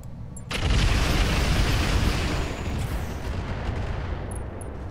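Incendiary weapons fire at a mech in the video game Roguetech, starting with a sudden blast and then a loud, sustained roaring rush that slowly fades over several seconds.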